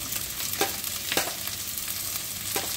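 Large onions fry in a pan, a soft steady sizzle with a few quick scraping stirs at regular intervals, close but fairly quiet, with no talk.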